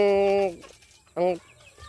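Rooster and chicken calls from a backyard flock of fowl, two loud harmonic vocal bursts close by with a quiet pause between them and the start of a third at the end.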